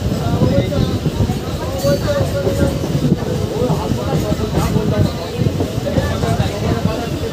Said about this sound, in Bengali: ট্রেন দেখুন এখন সিঙ্গেল লাইন থেকে ডবল লাইনে প্রবেশ করছে